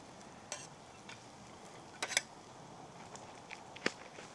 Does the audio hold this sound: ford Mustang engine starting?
no